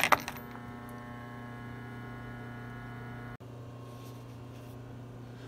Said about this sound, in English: typically if my air compressor's on, this electric solenoid there is humming, and that's what you were hearing also